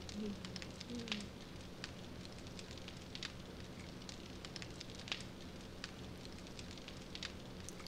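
Campfire burning in 7 Days to Die, a quiet, steady hiss scattered with sharp intermittent crackles and pops.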